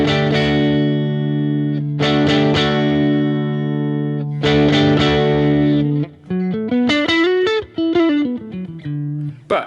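An electric guitar plays through a Line 6 Helix amp model with the tone control rolled off, giving sustained distorted chords that then shift into a quick run of bent single notes, loud and close with no talk.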